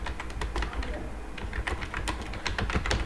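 Rapid, uneven keystrokes clatter on a computer keyboard, close and fairly loud, with short bursts of clicks and brief pauses throughout.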